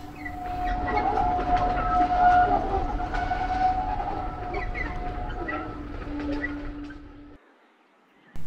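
A Bhakra Railway train running between Nangal and Bhakra Dam, rolling and rumbling steadily with rhythmic wheel clatter and a sustained horn-like tone, fading out near the end with no talk.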